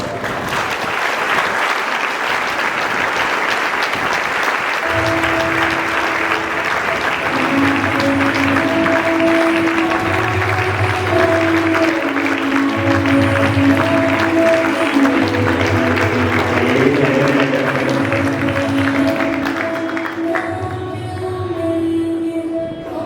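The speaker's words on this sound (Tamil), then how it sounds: "இதோ கைத்தட்டல் பதில் சொல்லுவாங்க" Sustained audience clapping at a school exam celebration event, loud and dense from a large crowd of students and teachers, with a musical tune playing underneath and the applause fading near the end.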